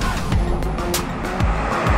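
Porsche Cayman GT4 RS on semi-slick tires at speed, a loud continuous engine roar with sharp gear-change blips and brief tire squeal, close and steady throughout.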